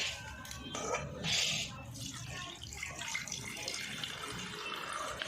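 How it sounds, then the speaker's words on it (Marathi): Water drains off rice and lentils that have soaked for five to seven hours. Close, soft splashing and trickling shifts in bursts, with faint background noise. "आता मी हे ह्याच्यातलं पाणी काढून घेते"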